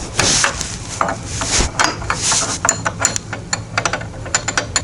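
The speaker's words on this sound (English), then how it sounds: "You got to use a wrench to hold the tie rod stationary and a wrench to loosen up the nut." A wrench works loose the tie rod nut on a Polaris Assault spindle, giving a run of close metallic clicks and ratcheting scrapes that quicken into short rhythmic taps toward the end, with no talking.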